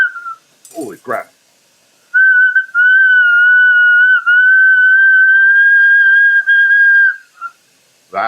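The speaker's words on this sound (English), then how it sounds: "That's a loud whistle." Glass whistle blown hard, a single loud, steady, piercing tone held for about five seconds, with brief voices before and after.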